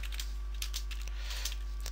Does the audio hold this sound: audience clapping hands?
no